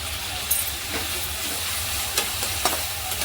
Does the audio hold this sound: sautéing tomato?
yes